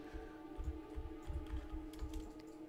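Computer keyboard typing recorded close by, a steady run of soft, quick key clicks over a constant low background hum.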